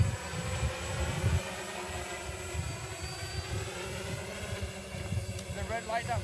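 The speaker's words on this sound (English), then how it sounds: "Motor sounds strong." A small motorized flying toy carrying a GoPro drones steadily with a continuous buzzing whine, close and fairly loud, while people talk over it.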